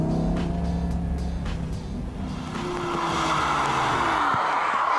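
A Lamborghini Gallardo at speed on a wet racetrack, its engine droning steadily with rising and falling pitch as it works through corners, loud and close with a constant hiss of spray and road noise.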